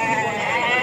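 Sheep bleat steadily and close at a village livestock market where a flock of about thirty is up for sale, the calls overlapping in a continuous dense chorus.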